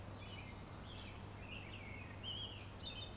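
Parent birds whose nest was robbed by a crow call in distress with faint, distant, repeated high chirps over a steady low outdoor hum, with no voices.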